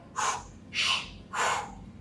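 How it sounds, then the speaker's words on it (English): Kapalbhati breathing exercise: three forceful, evenly spaced exhalations of air pushed out through the mouth, soft breathy bursts close to the listener with no talking. "It's just the sound of air coming out of your mouth"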